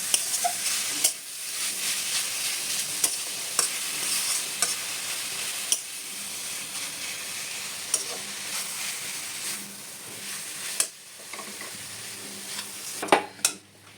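Jaggery is stirred into a grated coconut filling cooking in a pan, with a continuous close sizzle and hiss. Repeated scrapes and taps of the spoon against the pan punctuate the frying throughout.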